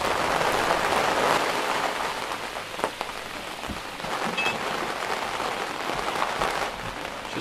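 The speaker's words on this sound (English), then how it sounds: "This is how it rains in Grenada these days." Steady rain falls in Grenada, a continuous dense hiss of drops on surfaces with a few sharper drips and taps, moderately close and alone without voices.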